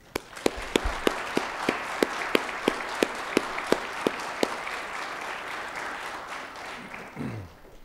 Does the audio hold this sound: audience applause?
yes